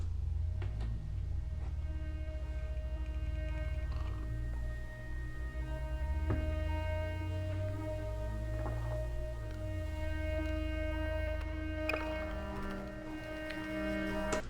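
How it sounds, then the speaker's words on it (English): Grainy organ synth from Kinetic Toys with a harmonium-like tone, sustained droning chords with rich overtones over a low rumbling bed, occasional soft clicks and swells, no voices. "It's kind of a harmonium sounding, grainy organ thing."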